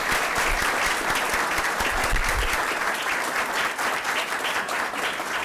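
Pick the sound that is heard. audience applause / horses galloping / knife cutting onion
audience applause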